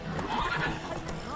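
A horse whinnies briefly in The Witcher 3: Wild Hunt, a short neigh against game ambience and hoof sounds, with a voice nearby.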